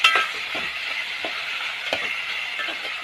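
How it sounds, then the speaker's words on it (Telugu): Small-cut tomato pieces drop into a pan of spicy mutton curry, with a soft frying hiss and a few light clinks and stirring taps close by. "చిన్న ముక్కలుగా కట్ చేసుకున్న టమాటా ముక్కలు వేస్తున్నాము."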